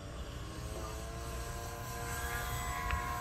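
An FMS F7F Tigercat radio-controlled model plane comes in on approach at a flying field, its electric motors giving a steady, moderately loud whine with a low rumble that swells slightly toward the end.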